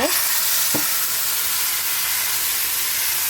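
Ginger frying in oil in a pan, a loud, steady hissing sizzle close up, with a couple of brief scrapes near the start and no talking.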